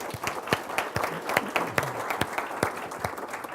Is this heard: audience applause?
yes